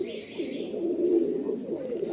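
A strong male pigeon held in a hand coos up close, a continuous rolling throaty murmur that swells in the middle and carries on steadily.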